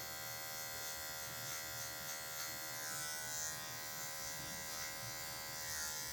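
Electric hair clippers buzz steadily and close up while fading a haircut, a continuous even drone with slight wavering as the blade tip works through the hair.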